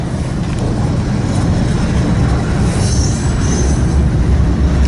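A small PRLX EMD MP15E switcher locomotive rumbles steadily nearby, a continuous low engine drone with rail and wheel noise and a faint high squeal partway through.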